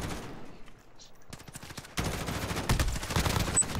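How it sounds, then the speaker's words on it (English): A 5v5 tournament shooter match with scattered gunshots giving way to a dense, loud fusillade of overlapping fire, mixed with crowd noise and commentary. "A lot of shooting, not a lot of killing."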